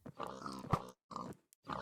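Pigs in Minecraft grunt and snort in short, rough bursts with gaps in between, close by and moderately loud.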